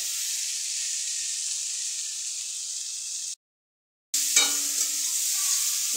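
Potato and tomato curry sizzles in a pan with a constant bright hiss, cut by a short silent gap, then resumes with a brief clatter of stirring.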